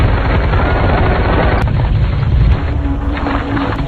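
Heavy sniper and machine gun fire in a battle from the war film White Raven, a loud, dense roar of shots and booms that runs continuously for the whole stretch.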